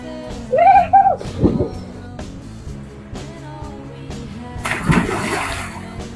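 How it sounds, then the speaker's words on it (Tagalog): Water from the Pinaglabanan River in Subic, Zambales, splashes and gurgles close by in uneven bursts, with a loud churning surge near the end and some background sounds around it. "Sobrang nakaka-relax dito sa ilog lalo na kapag maririnig mo yung agos."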